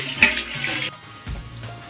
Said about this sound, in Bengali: এই যে দেখুন, গরম তেলে ডালার পরে কিন্তু ফুলে ফুলে উঠে হয়ে গেছে।